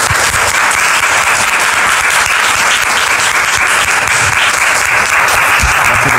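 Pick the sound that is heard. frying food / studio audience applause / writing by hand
studio audience applause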